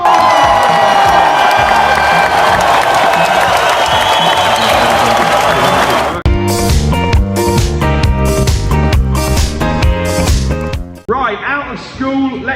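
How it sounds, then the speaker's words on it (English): A school celebration assembly breaks into loud applause and cheering from children for about six seconds. Music then takes over, with rhythmic beats and tones. "an enormous Newton round of applause!"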